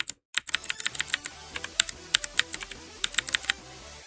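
Rapid keyboard clicks while playing Geometry Dash, a fast irregular run of sharp close taps with brief pauses, no talking.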